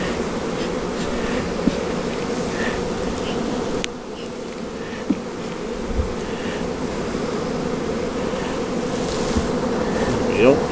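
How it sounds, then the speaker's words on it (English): Honeybees in an open, queenless hive drone in a steady, dense buzz throughout, close and continuous, with individual bees flying past now and then. "I'm pleased how calm this hive is with no queen."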